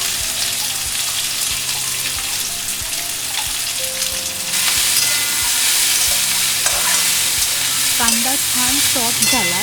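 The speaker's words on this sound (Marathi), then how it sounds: "एक टेबलस्पून तेल घेतलं त्यात आम्हाने चार कांदे टाकले" Four onions frying in a tablespoon of oil in a pan for a Konkan crab curry masala: steady bright sizzling with regular stirring scrapes, growing louder halfway through, with no talk.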